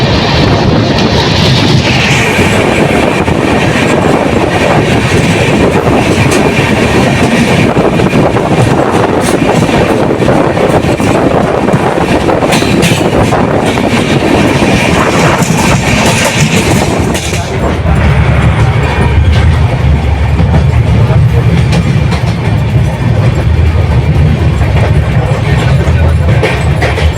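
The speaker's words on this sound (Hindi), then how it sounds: "अपनी ट्रेन निकल चुकी है बरौनी जंक्शन से" Janhit Express train running after leaving Barauni Junction, a steady loud rumble of wheels on rails with wind roar throughout, the low rumble deepening toward the end.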